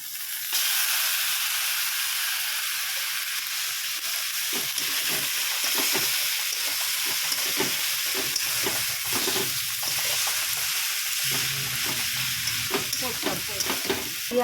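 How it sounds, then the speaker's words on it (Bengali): Chowmein with egg, onion, chilli and tomato stir-frying in a pan, a loud sustained sizzle and hiss with repeated rhythmic scraping and tossing strokes throughout, close by and without speech. "এই যে চাউমিনটা ভাজা হচ্ছে"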